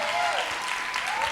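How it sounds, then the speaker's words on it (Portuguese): Church congregation claps in praise during a service, a brief burst of applause mixed with a sustained tone and voices underneath. "Uma salva de palmas ao Senhor Jesus"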